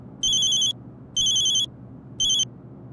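A telephone rings in three bright electronic bursts with short gaps between them, fairly quiet over a low background hum, in a Hindi TV comedy scene with a ringing phone.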